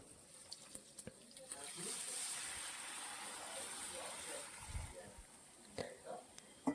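Boiled moong dal is poured into frying tomato in a pan: a soft wet gush and splash swells in the middle, with scattered light clicks around it, all fairly quiet.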